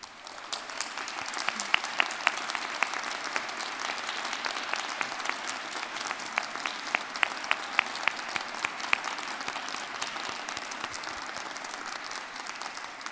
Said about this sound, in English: I'd like you to give them a round of applause this time.